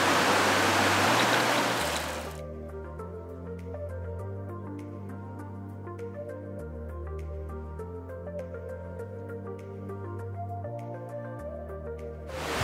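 A river stream near Lompatan Bego flowing over rocks: loud, rushing broadband water noise for about two seconds, then cut off as music takes over for the rest.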